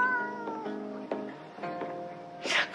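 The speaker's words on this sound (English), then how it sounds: "do you have a cat?" A cat meows several times in a row, drawn-out and clear at close range, in a scene from a crime drama, ending with a brief rustle.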